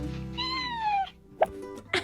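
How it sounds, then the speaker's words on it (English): A small cat gives a long, loud, drawn-out meow in a kitchen, followed by a couple of short chirpy sounds, close by and with no talk. "She's got a very big voice for a very small cat."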